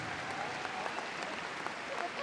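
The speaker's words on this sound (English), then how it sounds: "Let's give them another round of applause." Applause from the crowd fills the big ring at Crufts during the small and medium agility championship final, a dense, steady clapping wash sustained throughout.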